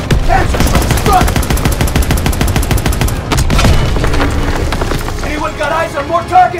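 Rapid, loud machine-gun and rifle fire fills the scene in the World War II shooter Call of Duty WW2, with a heavy blast midway as a Panzerschreck rocket strikes, continuous and close with voices shouting over it.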